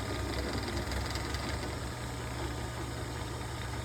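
General 340 drill press running with the bottom of its belt guard removed: a steady motor hum and vibration, even and continuous with no rattle, close and fairly quiet.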